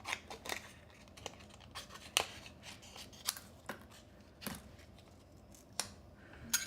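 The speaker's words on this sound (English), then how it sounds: "let me trim off a little bit here" Scissors trimming paper for a handmade half-sheet gift box give a string of quiet, crisp snips and small paper crunches, close up and irregularly spaced.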